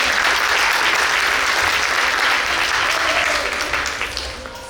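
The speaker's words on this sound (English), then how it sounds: "Let's give a round of applause." An audience applauds at an Arangetram dance recital, a dense, steady wash of many hands clapping in a hall that holds for several seconds and then slowly thins toward the end.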